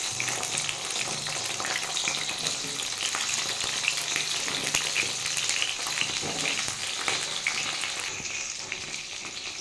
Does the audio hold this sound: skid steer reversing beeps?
no